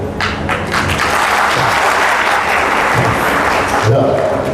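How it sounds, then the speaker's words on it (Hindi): Audience applause at a church gathering, a dense, steady wash of clapping filling the whole moment at a loud, even level, with faint voices mixed underneath. "शुक्रिया ताली बजाने के लिए"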